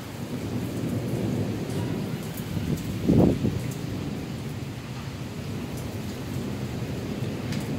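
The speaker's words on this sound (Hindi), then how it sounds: "बहुत ज़ोर ज़ोर से बिजली की आवाज़ें आ रही हैं" Steady rain falls through a thunderstorm, with one short, low rumble of thunder standing out partway through the continuous downpour.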